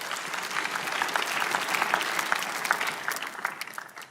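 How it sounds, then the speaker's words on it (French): A church audience applauds a speaker, a dense burst of clapping from many hands that swells, holds for a few seconds and then begins to fade. "Applaudissez pour lui."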